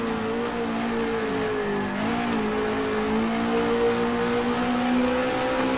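A race car engine in the Grand Prix Legends racing game, a 1966 single-seater, drones loudly and continuously at high revs, its pitch dipping briefly mid-corner and then climbing steadily again.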